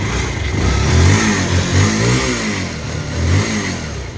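A Bajaj Pulsar 220 motorcycle engine revs close up, its loud rumble rising and falling through several throttle blips over a steady idle, with no talking.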